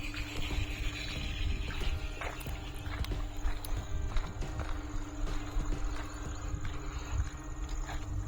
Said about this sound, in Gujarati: તમને હું બળદગાડું દેખાડું બળદગાડું